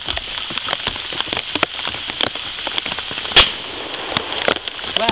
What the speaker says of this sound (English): to test the ballistics properties of these goggles, we're going to shoot